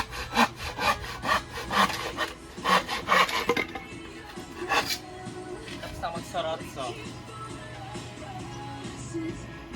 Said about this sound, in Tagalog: Kasi naglalagari siya.